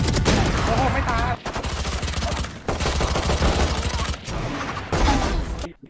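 Gunfire in a Valorant match arrives as rapid, loud bursts of shots in several clusters broken by short gaps, with voices talking over it.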